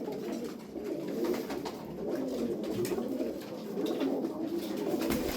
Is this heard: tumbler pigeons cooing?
yes